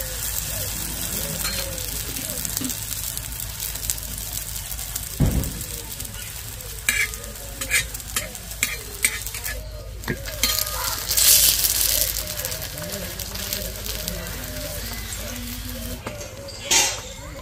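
A paratha fries on an oiled tawa with a steady close sizzle, broken by scraping and stirring clatters and a sharp knock near the start; no one speaks.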